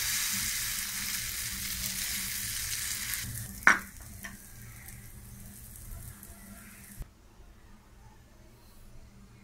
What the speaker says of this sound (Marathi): थोडंसं तेल घालूया, मालपुवा घालूया। गॅस आपण मंद ठेवलेला आहोत।